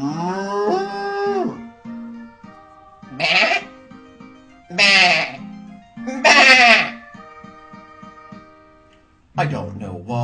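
Sheep bleat repeatedly in loud, close, wavering calls, several separate cries with short gaps, over a background of music.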